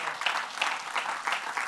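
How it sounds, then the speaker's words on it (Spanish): A church congregation breaks into brief, dense applause during a Spanish-language sermon, a steady wash of many hands clapping together at close range, with no speech over it. "Den un aplauso fuerte al Señor."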